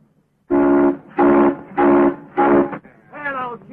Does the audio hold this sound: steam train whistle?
yes